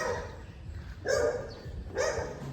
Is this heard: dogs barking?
yes